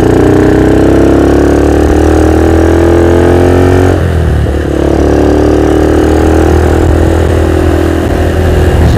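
A tuned Yamaha LC motorcycle with a 177cc engine and a 30 mm TZM carburetor runs loud and close, holding a steady idle with a brief dip and change in revs midway.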